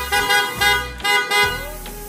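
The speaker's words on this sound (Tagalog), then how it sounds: "ayos na ba yung busina ko" Kawasaki motorcycle horn honks close and loud, three or four short beeps in a quick rhythm with no talk over them.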